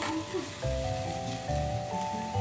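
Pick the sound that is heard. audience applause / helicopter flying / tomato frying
tomato frying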